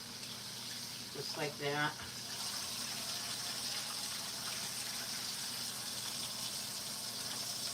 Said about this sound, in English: sink and I'm going to rinse them